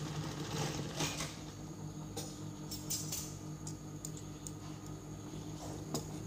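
A sewing machine runs in a steady, fast ticking rhythm while stitching a rickshaw hood, close and moderately quiet, with a low continuous motor hum underneath.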